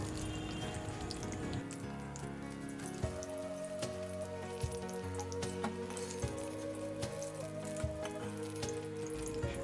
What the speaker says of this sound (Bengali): বেগুনগুলো সুন্দর করে ভেজে তুলে রাখবো